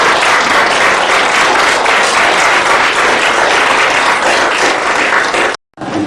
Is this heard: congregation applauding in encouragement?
yes